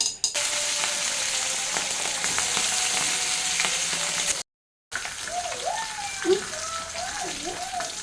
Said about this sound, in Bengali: আমার তেলটা গরম হয়ে গেছে, এখন আমি মাছগুলো দিয়ে নেব।